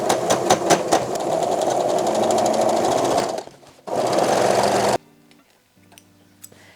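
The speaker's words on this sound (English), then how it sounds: "So sew all around the band, and as you sew, you just keep this stretched out as tight as possible." Sewing machine stitching stretched elastic onto a mini ruffle skirt waistband, heard as a fast, steady mechanical chatter for about three seconds, a brief pause, another short run, then quiet clicks and handling noise.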